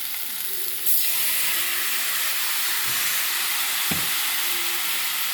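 Tomatoes added to dried fish frying in a pan give a steady hiss and sizzle with a few clicks and clatters, up close.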